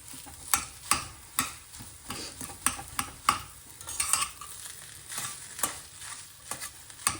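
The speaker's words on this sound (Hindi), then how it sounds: "इसे काफ़ी अच्छे से मिक्स, आलू को तोड़ते हुए मिक्स कर ले।" Boiled potato filling for stuffed aloo paratha being mixed and mashed in a pan, irregular close scraping and tapping strokes of a spoon over a faint sizzle, with no voices.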